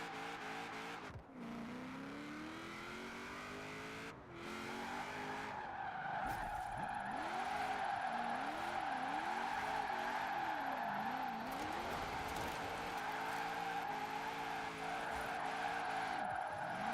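Torque Stallion car in the Forza racing game skids with loud tire squeal over a steady engine roar, wavering squeals repeating through the middle stretch, with no talk.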